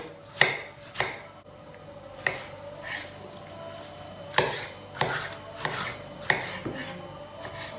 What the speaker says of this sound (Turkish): Soğanımızı da doğradık.